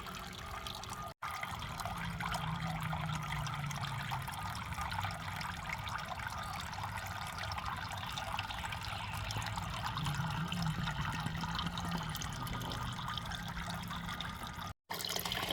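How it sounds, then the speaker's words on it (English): Water trickles steadily in a garden water feature in the evening. The splashing burble runs continuous and even throughout, with no voices. "So I enjoy water features."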